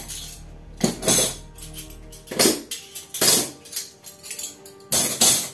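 Metal spoons are being put away in a home kitchen, giving five separate bursts of sharp clinking and clattering with short quiet gaps between them and no talk.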